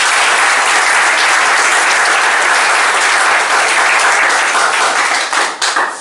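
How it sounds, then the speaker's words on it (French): Dense, sustained audience applause fills a ceremony hall, steady and loud throughout before tapering slightly at the very end. "nous l'applaudissons également"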